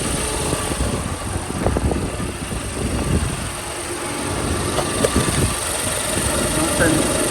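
Honda Pilot engine idling steadily after an oil change, a constant loud rumble close by, with a voice speaking briefly over it.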